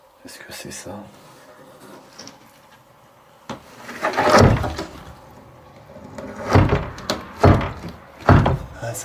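Wooden thuds and rattles of a door being shaken as if someone were forcing it, several heavy knocks in the latter half, with a person talking throughout.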